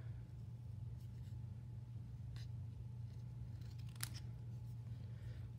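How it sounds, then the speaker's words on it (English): Scissors cutting paper for a layered craft piece, a few soft scattered snips and rustles, faint and close, over a steady low hum with no talking. "move your paper, and help your scissors along there"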